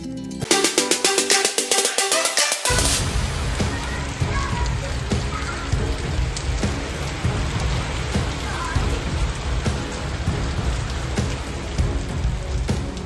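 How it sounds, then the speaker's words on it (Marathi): Unseasonal morning rain showers fall in Vaibhavwadi taluka, opening with a run of sharp rhythmic ticks before a dense, loud, steady patter of rain takes over. "वैभववाडी तालुक्यात आज सकाळी अवकाळी पावसाच्या सरी कोसळल्या"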